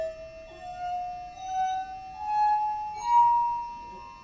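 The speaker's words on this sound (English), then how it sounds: "you can actually play a tune on these glasses. I've tuned these diatonically." Diatonically tuned glasses ring out one after another in a rising scale, clear sustained pure tones that step upward in pitch, played softly and alone.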